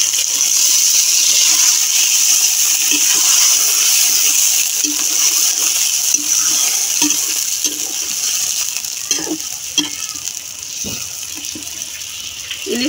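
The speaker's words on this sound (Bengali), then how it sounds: "এবার দিয়ে দেবো পানি।" Water is poured into a pan of hilsa fish in mustard curry with sliced green chillies, making a continuous close splashing gush that gradually settles, followed by a few light clinks.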